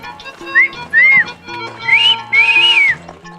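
A person whistles loudly up close to make someone stop, giving several short rising-and-falling whistle notes, with the last two longer and higher, against faint background noise.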